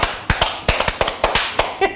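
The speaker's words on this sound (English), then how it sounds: "Clap for yourself." A few people clap during an interview with a UK-Ghanaian gospel musician, sharp, fairly close hand claps in an uneven rhythm, some single and some doubled, with no talking over them.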